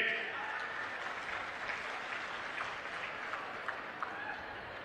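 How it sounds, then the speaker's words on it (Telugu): Farmers in a crowd applaud at a political speech by Andhra Pradesh Chief Minister Chandrababu Naidu, a steady, distant patter of clapping that holds at an even level with scattered sharper claps. "రైతులు గట్టిగా చప్పట్లు కూడా చెప్పండి"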